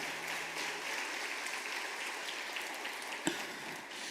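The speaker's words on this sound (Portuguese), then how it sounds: "Quem entendeu, dê um aplauso ao Senhor" A church congregation claps together in praise, a broad, even wash of applause at moderate distance that holds steady for several seconds without speech.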